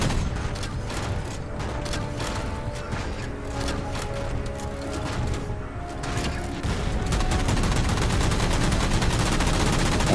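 Sustained heavy gunfire in the Halo 4 video game: dense, rapid automatic bursts and mechanical clatter that build louder and faster toward the end, loud and continuous throughout.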